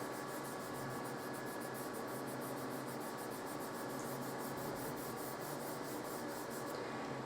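A finger rubs soft 8B graphite across paper to shade a sky, giving a continuous faint, even scuffing hiss that runs without a break and with no talking.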